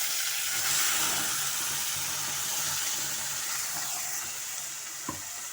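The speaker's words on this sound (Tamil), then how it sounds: "நல்லா நம்மளுக்கு எண்ணெயிலே நல்லா வதங்கணும்." Ground tomato chutney paste with dried chilies and asafoetida sautés in hot oil, giving a continuous close sizzle and hiss with gentle stirring and a small knock near the end.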